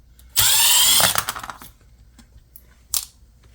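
A power drill whirs loudly in one sustained burst as it backs screws out of the grill of a Vanquish H10 RC car, followed by faint clicks and a second short whir.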